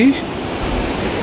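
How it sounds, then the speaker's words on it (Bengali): A mountain river near Manali, India, rushes in a steady, broad roar of water, loud and continuous, with a brief voice at the very start. "এই যে নদীর আওয়াজ পাওয়া যাচ্ছে।"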